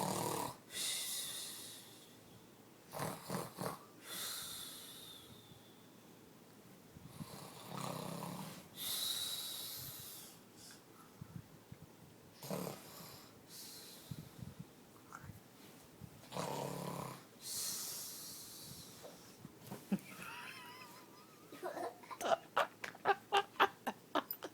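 A young child imitates snoring with a series of wheezy, snorting breaths in irregular bursts, some loud and close, followed near the end by a rapid string of short sharp puffs.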